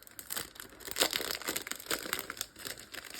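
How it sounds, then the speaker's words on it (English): Plastic packaging from an art supply kit is pulled and torn open by hand at close range, giving a steady burst of crinkling and crunching with no talk over it. "I'm just going to yank them open."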